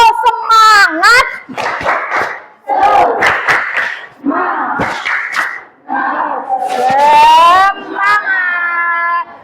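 A group of children chant and clap a rhythmic spirit cheer, tepuk semangat, in short bursts of loud shouted voices with claps in between, close and energetic.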